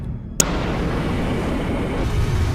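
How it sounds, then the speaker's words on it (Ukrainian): A sudden sharp blast of a nuclear reactor exploding gives way to a heavy, sustained roaring rumble that continues steadily afterward. "Двома потужними вибухами реактор розірвало зсередини"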